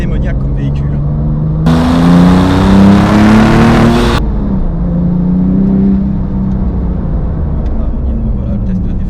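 A Porsche 997 GT2 engine revs hard in second gear for a couple of seconds. Its loud, rising roar climbs in pitch before dropping back to a lower drone, with someone talking over it throughout.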